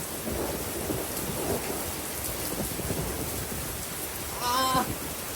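Steady rain pours during a thunderstorm, with low rumbling thunder mixed into the downpour, heard outdoors near a car being worked on, and a brief voice near the end.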